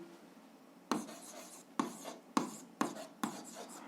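Pen writing down a numeric answer in a grade 7 algebra exercise, a faint scratch followed by five distinct short strokes tapping and scraping on paper, close and quiet with no speech.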